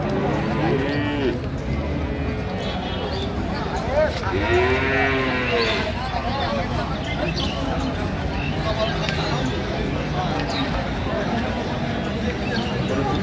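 Dairy cows and calves low and moo repeatedly at the Ambari cattle market in Dinajpur, the calls rising over a constant crowd din while traders bargain nearby.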